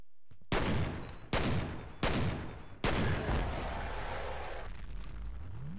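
Four sharp, loud gunshots in F.E.A.R. crack about a second apart, each leaving a ringing tail, and the last tail stretches into a longer rumbling decay.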